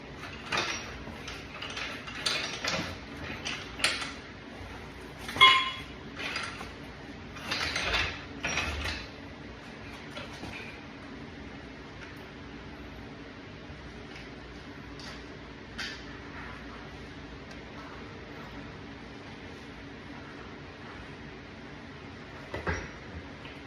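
Honda CB750K motorcycle engine being slid out of its frame after the bolts and a bracket are removed: scraping metal knocks and clunks come in bursts, louder near the start and fading to occasional bumps, with no talking.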